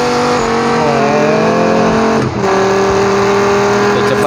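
Lamborghini in a racing video game accelerating hard with nitro boost at an airport, a loud, continuous engine whine with rising and shifting pitch and a brief dip midway.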